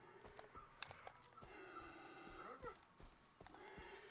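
A tapir calling in the video game Far Cry 3, a string of nasal, whinnying squeals with rising and falling pitch, close and clear, interrupted by short clicks and rustles.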